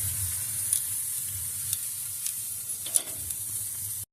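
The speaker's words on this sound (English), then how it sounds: "That fat sizzling away." Brisket fat sizzles and crackles steadily on a smoker, a constant close hiss with a few sharp pops and no talking.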